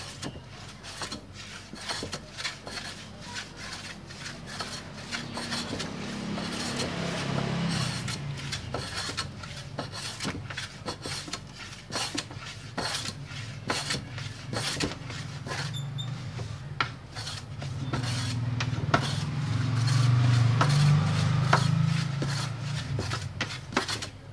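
Hand plane shaving wood during acoustic guitar making, a long run of repeated rasping strokes in a steady rhythm, close and fairly loud, with no talking.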